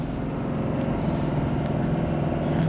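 A 2024 Ford F-450 Limited dually diesel pickup accelerates gently, its engine giving a steady low rumble heard from inside the cab, even and continuous without a hard push.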